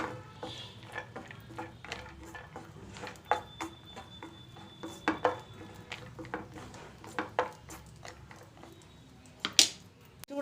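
Dry fruits frying in ghee in a pan for banana halwa, with soft sizzling under scattered clinks and scrapes of a spoon stirring against the metal and a few sharper taps.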